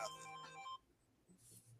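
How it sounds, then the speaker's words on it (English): Phone ringtone plays as a bright, electronic melody for under a second and then cuts off, leaving quiet background noise. "Another phone call."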